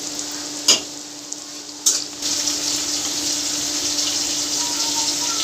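Plantain, potato and lentil kebabs frying in oil in a pan, a steady close hiss and sizzle with a couple of sharp taps near the start, no talking.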